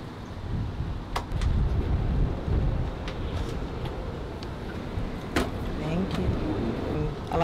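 Wind blowing outdoors in a Los Angeles art garden, a steady gusty rumble buffeting the microphone with a few faint knocks and rustles.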